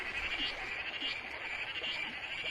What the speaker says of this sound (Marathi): पावसाला संगीत द्यायला बेडूक ही सज्ज झाली